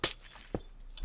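Glass block shattering in Minecraft: one sharp, bright breaking burst at the start, then a second softer crack midway, with faint clinking fragments trailing after.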